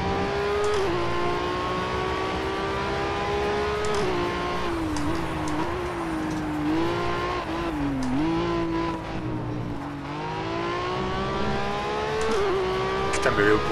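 Ferrari 812 V12 engine in Project Cars VR, revving steadily with rising and falling pitch as gears shift, loud and continuous throughout.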